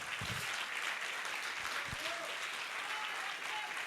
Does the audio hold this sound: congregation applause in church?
yes